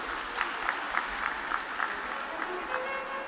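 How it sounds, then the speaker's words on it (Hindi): A large audience at a live Shiv Mahapuran religious discourse in Deoghar claps in a steady rhythmic beat, roughly three claps per second, sustained and fairly loud throughout. "जोरदार ताली बजाएं।"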